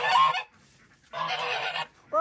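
Ducks on a small farm in Canada give loud, nasal honking calls nearby: two long bursts separated by a brief gap, then a third call starting.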